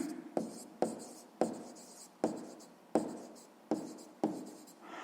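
A pen scratches across paper while working a sixth-grade math exercise, a rhythmic series of short strokes, each starting with a sharp tap and trailing off, close and quiet with no talking.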